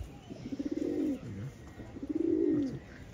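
A high-flying pigeon of an old breed coos twice in soft, rolling bursts, near and fairly quiet against low background noise.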